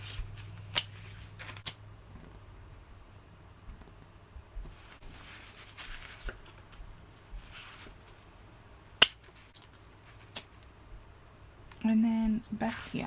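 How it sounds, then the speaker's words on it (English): Scissors trim zipper tape while sewing a bag, giving a few sharp, quiet snips spread across a hushed room, with a voice speaking briefly near the end. "I am going to trim mine off just a little bit."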